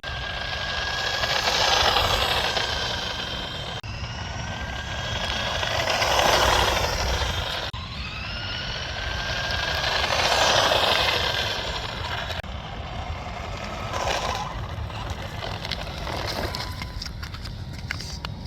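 An ECX AMP Crush RC truck with a Ghoul RC 3650 3100 kV brushless motor and 60 amp ESC makes speed runs near snow. Its high electric whine swells and fades over several passes, loud and close.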